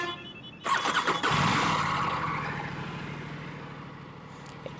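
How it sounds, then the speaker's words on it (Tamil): Aprilia RS 457 motorcycle engine cranks briefly, then fires and revs loudly before settling into a deep, steady idle, recorded close up. "Let's fire up the engine."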